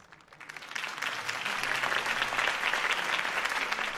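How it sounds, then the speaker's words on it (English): Crowd applause in a Batman video game after Harvey Dent's campaign speech, a broad wash of clapping that swells in quickly and holds steady at moderate loudness. "could have heard that applause"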